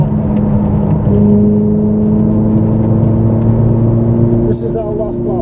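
A Ferrari engine holds a loud, steady high-pitched whine as it pulls under power on a race track, with a voice speaking briefly near the end.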